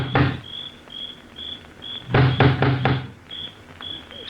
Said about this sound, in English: He looks about uneasily, then lifts the huge knocker on the door.